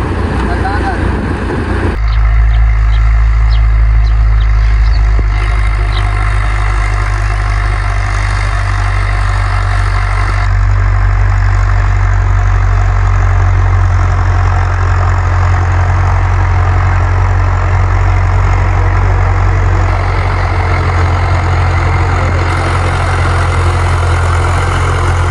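A farm tractor used for ploughing in Punjab idles with a deep, steady diesel drone, its engine speed rising and falling slightly over a long stretch, with voices heard at times.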